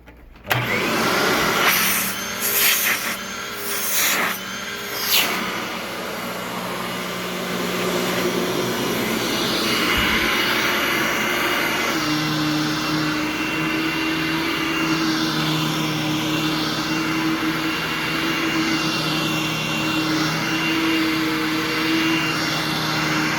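A Hoover Tempo Breathe Easy upright vacuum cleaner clatters briefly, then settles into a loud, steady motor roar with a high whine, running close by without talk.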